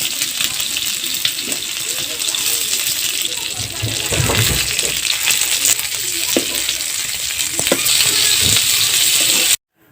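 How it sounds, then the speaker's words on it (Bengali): Fish coated in ground spice paste fries in a pan over medium heat, giving a loud, steady close-up sizzle with occasional clicks and light taps, ending abruptly. "তার জন্য মিডিয়াম আঁচে মাছগুলো ভেজে নিতে হবে।"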